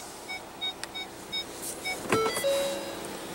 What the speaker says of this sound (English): No trajectory here, but you do have rear parking sensors, as you can hear it right now.